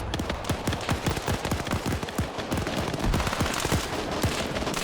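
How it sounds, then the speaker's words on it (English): An M249 machine gun fires in a tactical shooter video game, loud rapid bursts of sharp reports in quick rhythmic succession, near and continuous across the span with a few brief gaps. "Machine gunner coming around with a 249"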